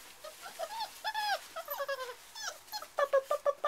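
Bullmastiff puppies in a nursery let out a string of high whimpers and squeaky yelps close by, short bursts coming faster and louder toward the end.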